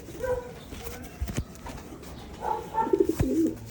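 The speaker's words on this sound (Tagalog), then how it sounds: "Itong kaninang tanghali pumasok mga kalapatids." Pigeons coo nearby in two short, soft bursts, with a few light knocks and movement in between.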